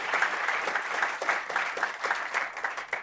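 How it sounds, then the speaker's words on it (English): An audience claps after a talk about large founding teams, a steady, moderately loud round of applause from a modest crowd lasting the whole clip. "let's give Ollie a round of applause for sharing so generously."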